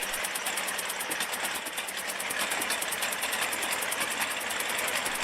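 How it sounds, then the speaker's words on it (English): A 1913 Dion-Bouton four-cylinder side-valve petrol engine, water-cooled, runs steadily with a fast, even mechanical ticking over a continuous hum, close and constant throughout with no voices. "This Dion-Bouton engine dates from around 1913 and was used in early passenger cars"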